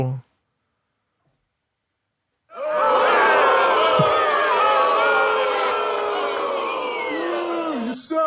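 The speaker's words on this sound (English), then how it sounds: "That's basically the crowd tonight towards poor Sami Zayn." Wrestling arena crowd at a WWE SmackDown event booing Sami Zayn, a sustained loud roar of jeers that erupts after a moment of silence and holds steady to the end.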